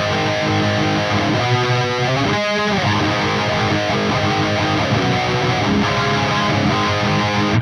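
A distorted electric guitar through a Soldano SLO 100 amp plugin with a built-in chorus effect plays sustained chords and a few quick notes, thick with a shimmering, swirling effect, loud and alone.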